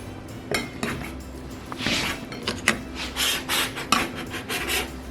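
Soft glazed cinnamon rolls being cut with a utensil, giving close, intermittent scraping and clinking strokes against a pan, several short rasps in a row with no talking.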